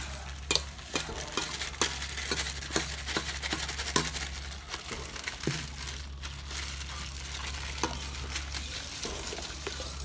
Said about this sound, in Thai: แค่นี้แล้วคนผสมให้เข้ากัน